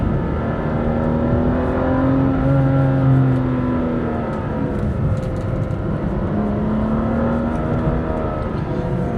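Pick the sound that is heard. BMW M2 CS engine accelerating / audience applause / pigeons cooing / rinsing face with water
BMW M2 CS engine accelerating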